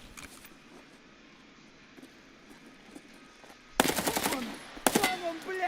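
Automatic gunfire from a heavy-recoil weapon in an online shooter game, two loud close bursts erupting suddenly after a stretch of quiet ambient background.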